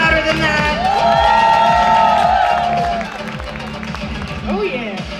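A convention audience at a sci-fi winter event cheers and whoops loudly as a guest comes to the stage, with a host shouting over the sustained crowd noise.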